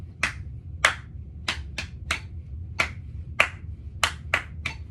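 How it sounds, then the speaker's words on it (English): Several people clap along with a metronome, sharp bright claps landing at a steady, fairly quick pulse over a low background hum, about two claps per second and close by. "Keep clapping. Keep it up."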